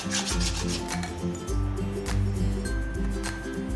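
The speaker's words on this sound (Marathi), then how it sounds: "आता आपल्याला हे छान असं फेटून घ्यायचं आहे" A whisk or spoon beats banana pancake batter of ripe mashed bananas and sugar in a bowl, making close, rhythmic scraping and sloshing strokes that repeat quickly and evenly.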